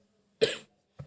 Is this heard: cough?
yes